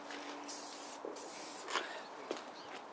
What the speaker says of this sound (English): So let's give this a spray.